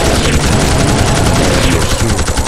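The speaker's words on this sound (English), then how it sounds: "I call it the repeater arm cannon." The repeater arm cannon fires in the PS2 game Blood Will Tell: Tezuka Osamu's Dororo, a loud, dense, continuous burst of rapid machine-gun-like shots that lasts the whole stretch.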